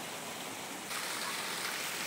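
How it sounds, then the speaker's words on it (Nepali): Juwane waterfall in ward 4 of Dharan, Nepal, heard up close as a steady, loud broadband rush of falling water that swells fuller partway through and holds continuously with no voices. "फाइनली झरना आइपुग्यो।"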